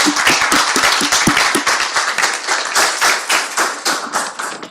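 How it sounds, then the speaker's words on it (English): An audience claps in steady applause, dense overlapping hand claps at close range that carry on loudly throughout. "So a round of applause."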